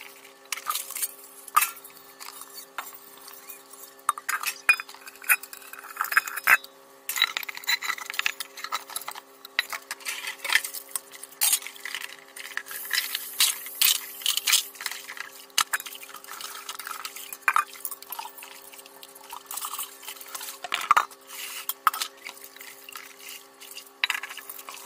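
Utensils and metal dishes handled and rinsed, with frequent sharp clinks and clatters over running, splashing water, close and fairly loud throughout.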